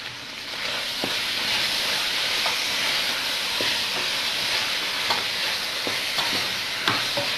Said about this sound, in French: Donc vous mélangez, vous faites encore frire.